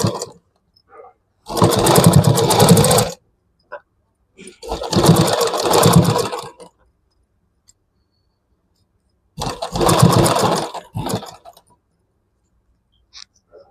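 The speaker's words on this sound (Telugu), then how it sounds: "జాగ్రత్తగా కుట్టుకోవాలి." A sewing machine stitches a dress neckline in three loud runs of about one to two seconds each, its rapid mechanical whir stopping cleanly between runs, with no talking over it.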